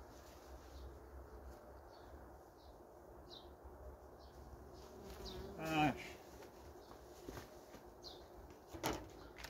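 Honeybees near their hives buzz faintly, with occasional individual bees passing by over a quiet outdoor background and a couple of brief louder knocks.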